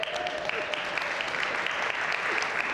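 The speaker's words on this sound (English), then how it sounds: "Round of applause for our volunteers." An audience claps for volunteers at a talent event, steady dense applause throughout, fairly distant and sustained.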